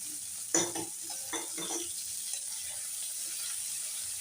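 Ginger, garlic, tomato and chopped green chilies hit hot oil in a pan for a red lentil dal, with a sharp burst of sizzling and spatula scrapes and stirring clatter, then a steady frying hiss underneath.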